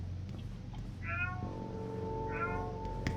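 A domestic cat meows twice, two clear drawn-out cries about a second apart, over a steady low background hum and music.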